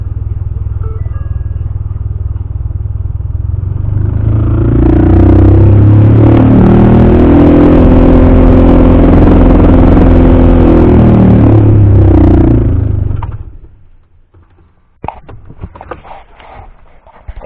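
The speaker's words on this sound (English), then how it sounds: "we'll turn the blower speed up" Blower motor noise in a 2013 Ford F-150 at high fan speed, a loud steady droning whir with a rattling, rhythmic quality that swells, holds, then cuts off, followed by faint clicks.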